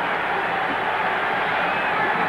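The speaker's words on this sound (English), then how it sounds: "This crowd roaring." Roaring crowd at a 1982 Los Angeles Rams home football game against the Detroit Lions, late in the fourth quarter; a dense, steady wash of cheering noise holds at a constant loud level throughout, with no voice standing out.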